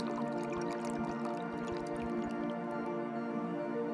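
Drinking water from an off-grid vehicle's tank dispenses at the kitchen sink, producing a rapid run of close, wet drips and squishy splashes over a steady trickle.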